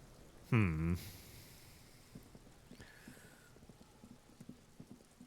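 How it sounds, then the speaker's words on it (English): Rain falling over the city of Revachol in the game Disco Elysium, a faint steady patter with scattered drips and taps, after a brief louder burst near the start. "All around you, rain falls on the great city of Revachol"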